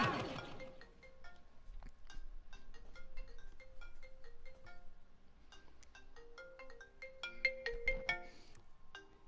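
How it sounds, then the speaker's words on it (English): A phone ringtone plays a melodic sequence of bright electronic notes for several seconds during a gaming livestream, fairly quiet and clear with a low background hum and no talking over it. "there's a phone going off that I'll have to deal with later"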